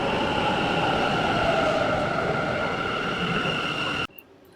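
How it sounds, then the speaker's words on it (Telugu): A Bangalore metro train pulls into KR Puram station with a loud, sustained rumble and a steady humming whine, cutting off abruptly near the end. "మనం వెళ్ళే మెట్రో ట్రైన్ అయితే వచ్చేసింది."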